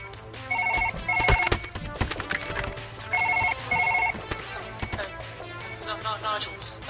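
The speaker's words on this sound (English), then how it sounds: "we got a phone call" A telephone rings inside the surgery game Surgeon Simulator, giving two bursts of bright electronic trills in each of two cycles over a low steady hum. Clattering game sounds run in between the rings.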